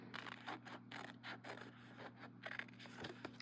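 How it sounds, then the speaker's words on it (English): Repeated crisp snipping and scraping cuts of scissors through paper, close and steady, with a low hum beneath and no talking. "I'm just going to use my scissors here."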